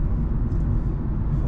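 A car driving with a manual gearbox being shifted into fifth gear, giving a steady, moderately loud low engine and road rumble with no clear break.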